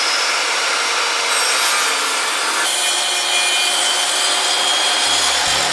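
A bench saw cuts through wood in a steady, loud, continuous rasping whine. The pitch and texture shift slightly as the blade works through the timber, and no one speaks.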